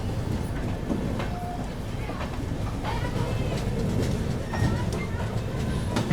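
Inside the Patliputra SF Express running through Katni Junction, a steady rumble of wheels and carriage noise fills the whole stretch, with faint clacks and a voice speaking over it.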